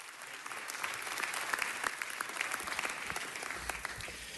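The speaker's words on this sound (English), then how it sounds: "Give Ron a round of applause." At a city council meeting, the chamber claps for city controller Ron Galperin as he is introduced: a steady round of applause, moderately distant, with individual sharp claps standing out through the wash.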